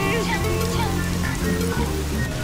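Heavy rain falls steadily on a surface outdoors, making a dense, loud hiss, with a voice talking and a car engine rumbling underneath.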